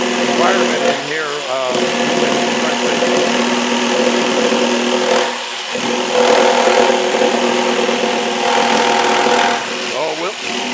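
Loud steady whine of a power saw cutting wood for a 1946 Chris Craft boat mixed with the roar of a shop vacuum, running continuously with rising and falling pitch while a person talks.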